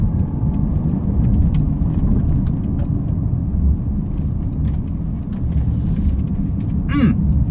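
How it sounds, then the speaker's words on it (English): A 2010 Honda CR-V crossover with all-wheel drive and 178k miles cruises along, its engine and road noise forming a smooth, steady low rumble heard from inside the cabin, with a brief faint squeak near the end. "And this car just runs so smooth."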